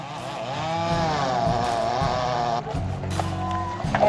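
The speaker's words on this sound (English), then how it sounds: "After a little bit of work with the chainsaw and moving some logs around, we start to clear up this log jam." A chainsaw cuts through logs in an Alaskan log jam, its engine whining loud and close with a wavering pitch before easing off, followed by brief knocks and handling noises.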